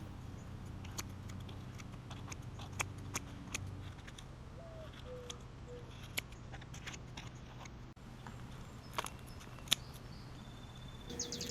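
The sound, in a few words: cutting roots at bottom of potted star apple tree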